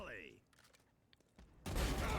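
Gunfire in a Valorant quarter-final esports match, with a sharp burst of shots near the start, a quieter stretch, then a loud sustained blast of firing and impact noise at the end under commentary.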